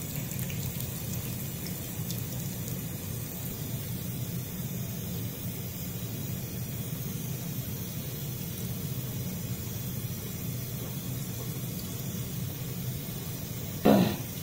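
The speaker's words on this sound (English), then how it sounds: "So just continue to rinse until the water runs clear." Water runs steadily from a tap as a tie-dyed sock is rinsed at home, a continuous broad rushing hiss with a brief louder splash near the end.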